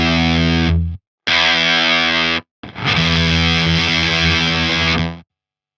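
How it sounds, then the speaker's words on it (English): Heavily distorted electric guitar through a distortion pedal, played in three sustained chord bursts with brief gaps between them, loud and saturated, with no voices. "with mode I can select 3 different basic distortion sounds"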